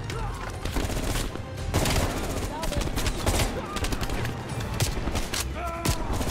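Gunfire in the video game Call of Duty: Black Ops Cold War, with rapid bursts of shots and automatic fire crackling steadily throughout, fairly loud and close, alongside some background game noise.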